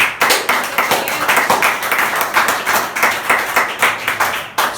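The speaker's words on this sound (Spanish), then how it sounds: "Denle ese aplauso si se lo va a dar." Church congregation applauding during a sermon, many hands clapping in a loud, fairly rhythmic burst that pulses steadily and then breaks off abruptly near the end.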